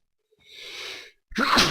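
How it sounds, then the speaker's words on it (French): A sneeze close to the microphone, with a sharp inhaled breath building into a loud, abrupt burst at the end, alone without talk. "Je n'ai pas pu me retenir d'éternuer."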